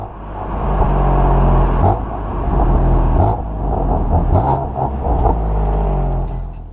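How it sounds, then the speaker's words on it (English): A 2015 BMW M3 sedan downshifts while driving, its engine rumbling and whirring under load. Several sharp throttle blips rise and fall over a steady, loud drone. "Downshifts are also accompanied by a pronounced throttle blip."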